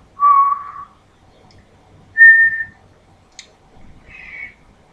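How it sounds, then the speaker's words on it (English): Three short human whistled notes, clear and close, separated by pauses, each pitched a little differently. "you can literally feel that when you whistle"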